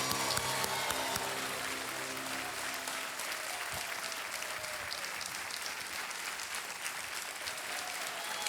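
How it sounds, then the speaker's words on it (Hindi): A TV quiz show studio audience claps steadily in sustained, dense applause that stays even from start to finish, with no voices standing out. "तालियां बजते रहे उषा यादव जी के लिए।"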